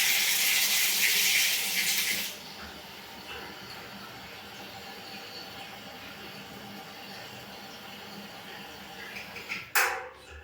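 Water from a tap gushes loudly into a container for about two seconds, then cuts off, leaving a quiet room and a brief clatter near the end.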